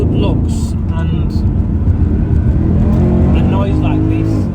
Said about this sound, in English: this engine is really the party piece of the car